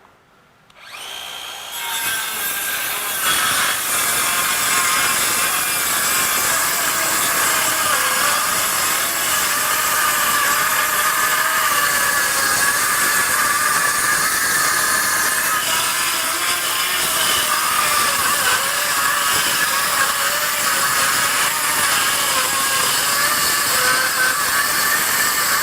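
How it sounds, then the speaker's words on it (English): A DeWalt 12V DCS512B cordless circular saw spins up after a brief quiet start, then rips a 2x4 in one long, loud, steady whine with a gritty cutting edge that holds for over twenty seconds. "So let's go ahead and rip this, see how well it does."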